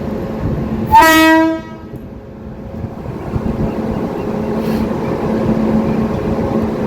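A WP7 locomotive's horn blasts loudly for about half a second, then a steady rumble of the passing train carries on underneath.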